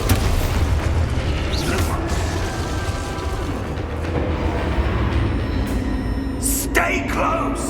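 In Hogwarts Legacy, a spell explodes amid constant loud rumbling and mechanical clatter, with a deep boom and sharp bursts near the end.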